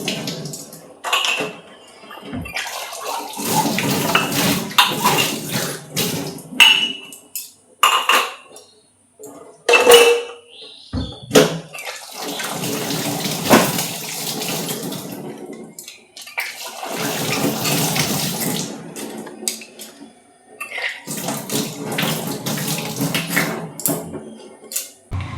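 Dishes, pots and cutlery scrubbed and rinsed under a running kitchen tap, with bursts of gushing water alternating with clinks and scraping of utensils, close and fairly loud, no talking.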